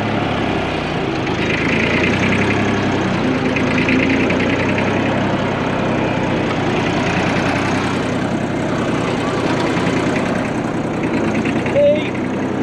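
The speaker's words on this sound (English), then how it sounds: "Caution! Tractor reversing!" A steady low Fordson Dexta tractor engine rumble drones throughout, like heavy machinery idling close by, with faint voices mixed in underneath.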